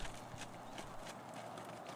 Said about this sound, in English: Now Michelle goes into a lope, also called a canter.